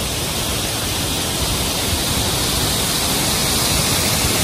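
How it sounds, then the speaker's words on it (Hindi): A majestic mountain waterfall in Uttarakhand crashes down onto a road, making a loud, continuous broadband roar that holds steady and close with no break or voices. "ये है एक मैजेस्टिक सा झरना जो बिल्कुल ऊपर से"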